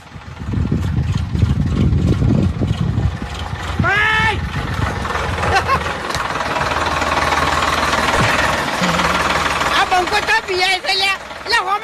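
A loud turbo tractor engine chugs and idles with a knocking rumble while people talk and shout over it.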